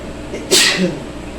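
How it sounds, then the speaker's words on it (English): A single sharp sneeze bursts out close by, brief and loud, over a steady low background hum. "I did need to sneeze."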